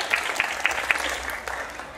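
Audience applause at an evening minuet event honoring a local priest, a short burst of scattered clapping from a modest crowd with a few sharp, distinct claps standing out near the front.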